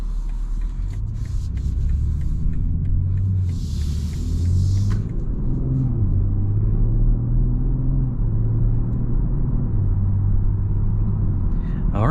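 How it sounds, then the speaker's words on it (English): Low, steady road rumble and muted engine hum from inside a 2022 BMW M340i cruising smoothly, with faint cabin ticks and a soft drone throughout. "driving this 2022 BMW M340 drives nice and smooth and very nice and comfortable"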